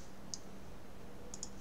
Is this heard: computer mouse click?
yes